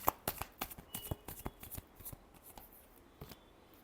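Tarot cards are shuffled by hand in quick riffling bursts, a rapid series of crisp slaps and flicks that thin out toward the end, close and fairly quiet.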